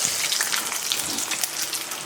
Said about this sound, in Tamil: எண்ணெயில் போட்டு நல்லா ஃப்ரை பண்ணி எடுத்துக்கலாம்